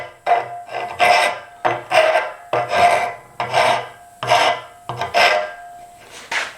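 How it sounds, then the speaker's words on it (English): A rasp files the corners off a vintage blacksmith's hot cut, about nine loud, close rough strokes in a steady back-and-forth rhythm, each a gritty scraping rush with short pauses between. "I'd still be rasping on the first side, trying to get those flats."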